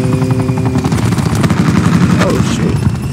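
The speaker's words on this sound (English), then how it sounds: "Oh, it's a helicopter" Helicopter in Call of Duty 4, its rhythmic rotor chop droning close and loud beneath bursts of rapid gunfire that fill the short stretch.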